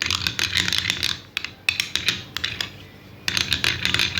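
Lemon juice stirred together with rose water in a small container, a close, rapid clinking and scraping of a spoon against the sides in quick bursts with brief pauses.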